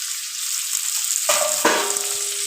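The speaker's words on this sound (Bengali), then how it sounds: "বেশ কিছুক্ষণ ধরে এটাকে আমরা ফ্রাই করে নেব।" Chopped onions and green chillies frying in oil in a pan, with a steady close hiss and a couple of sharp clinks from stirring partway through.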